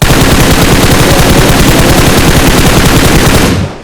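Sustained, very loud automatic gunfire from a video game: a dense, unbroken rattle of rapid shots that fills the whole stretch before cutting off abruptly at the end.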